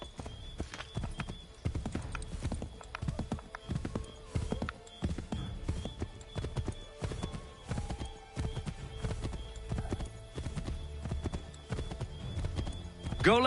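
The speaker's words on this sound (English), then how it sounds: "Get back on the horse, Connor." Hooves of a horse galloping in Assassin's Creed 3 clop in a fast, steady rhythm throughout, with a brief whinny and some game sounds in the background.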